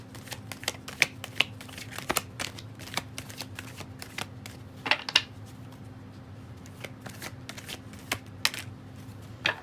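Tarot cards are shuffled by hand in quick, crisp riffling flicks and soft slaps, close and irregular throughout, over a low steady hum.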